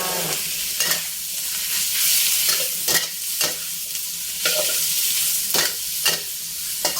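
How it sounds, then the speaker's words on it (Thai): Ribeye beef with onion and bell pepper is stir-fried in a wok with oyster sauce, giving a steady sizzle broken by sharp, repeated scraping strokes of the spatula every half second or so. "เนื้อนี่ผัดไม่นานค่ะ แค่เดียว เราไม่ต้องการให้สุกเกินไป"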